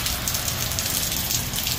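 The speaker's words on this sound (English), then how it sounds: "It is raining. It's starting to get really heavy." Heavy rain pours down steadily and loudly on a surface outdoors, a dense continuous hiss with no pauses across the short stretch.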